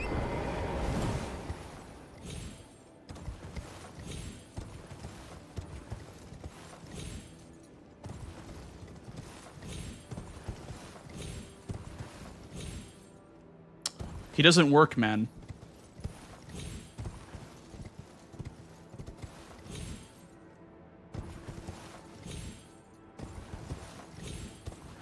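Torrent, the spectral steed in Elden Ring, trotting with steady clip-clop hooves throughout, joined by a brief louder burst of game action midway, while someone talks over it.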